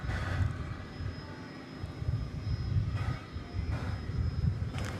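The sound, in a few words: aircraft approaching runway at DFW Airport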